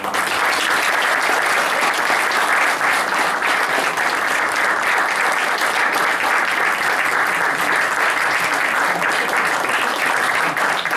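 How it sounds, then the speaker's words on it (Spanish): An audience applauds at a book presentation event, a dense and sustained wash of clapping that holds steady at full strength for the whole stretch. "Un aplauso, por favor."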